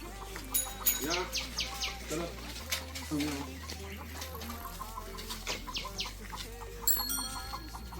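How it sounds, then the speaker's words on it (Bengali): Chickens cluck outdoors during a morning walk, heard as short, fairly close calls mixed with bird chirps and a low steady hum, while people talk nearby. "এই যে মুরগি মুরগি"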